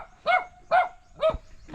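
A dog barks outdoors, three loud, evenly spaced barks close by, with a fourth just starting at the end.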